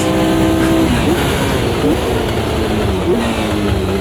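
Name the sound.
Formula Vintage race car engine in Automobilista 2 video game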